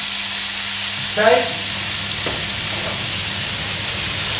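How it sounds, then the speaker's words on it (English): Steady, close sizzling of bacon frying in a pan, a constant crackling hiss throughout, with one brief spoken word near the start. "So, bacon in next into the frying pan, get that bad boy sizzling"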